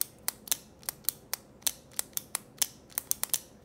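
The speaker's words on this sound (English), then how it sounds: "when the button is pressed, good solid press." Zebra X-701 pen button being pressed and released repeatedly, giving about fifteen sharp, close mechanical clicks in an irregular rhythm over a quiet background.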